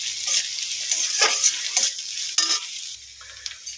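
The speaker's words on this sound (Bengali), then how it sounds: "মশলা আমার প্রায় কষানো হয়ে এসেছে।" Spice paste with five or six green chillies sautéed in a pan while cooking banana flower. A spatula scrapes in several quick strokes over a bright, close sizzle that quietens toward the end.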